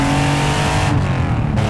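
Porsche 911 RWB with a 3.2 liter flat-six engine revving hard, a loud, raw, close-up mechanical roar that holds and then drops off abruptly near the end.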